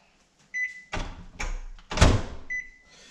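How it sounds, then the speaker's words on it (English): A microwave oven door opens with a clunk and a hot cooking bag of crappie is pulled out, rustling and bumping in two bursts of handling noise, with a faint beep tone before and after. "these bags are hot when they come out of the microwave"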